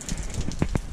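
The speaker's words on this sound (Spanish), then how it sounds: "Llueve, llueve, candela." Heavy rain patters steadily on a surface outdoors, a dense hiss broken by a few sharper nearby drips and splashes.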